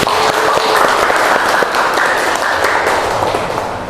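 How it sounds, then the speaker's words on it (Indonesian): Loud, close audience applause at a school counseling event, dense rapid clapping filling the whole stretch and tapering slightly toward the end. "beri tepuk tangan yang meriah"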